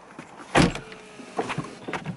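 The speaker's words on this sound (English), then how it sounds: "these seatbelt handles, which come out as you open the door" A motorized seatbelt handle in a Mercedes-Benz E-Class E250 CDI extends from beside the seat with a short whirring motor push, followed by softer mechanical clicks and movements inside the quiet car.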